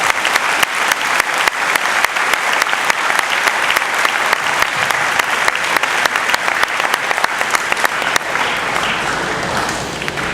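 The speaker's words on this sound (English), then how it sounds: "Let's give one more big round of applause to the U.S. Army." Loud, sustained audience applause honoring the U.S. Army at an All American jersey presentation ceremony, dense clapping steady for the full stretch and tapering slightly at the end.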